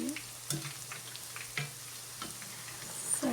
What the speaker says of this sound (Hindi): ये हम इसको बस फ्राई करते रहेंगे।